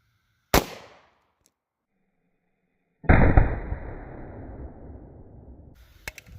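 A 9mm round with MHP ammunition is fired into a clear ballistics gel block: a single sharp report, then after a pause a second loud, booming blast that rings out and fades over several seconds, with a couple of faint clicks at the end.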